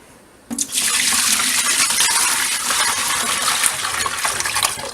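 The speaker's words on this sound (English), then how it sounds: "Dump all that good stuff down the drain. The strainer will catch all that stuff" Liquid from making cottage ham pours down a kitchen sink drain through a strainer, a loud, steady gushing splash that starts abruptly and runs without pause, close by.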